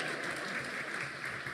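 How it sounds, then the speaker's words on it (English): Audience at a medical school white coat ceremony bursts into brief, dense applause with some cheering, filling the room for a moment without speech. "You can cheer, it's okay."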